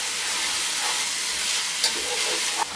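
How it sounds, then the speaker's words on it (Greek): Finely chopped spring onion and tender leek greens dropped into hot olive oil, a loud, even sizzle and hiss close up, with a couple of faint stirring knocks. "Στο λάδι που καίει θα ρίξουμε το ψιλοκομμένο κρεμμυδάκι και τα τρυφερά πράσινα μέρη του πράσου."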